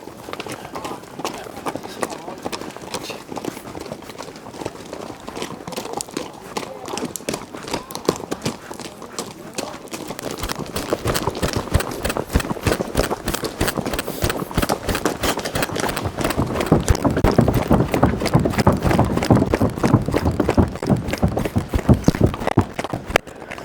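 Horses moving along a mountain trail, their hooves striking in a fast irregular clatter that grows denser and louder midway, with people talking over the steady footfalls.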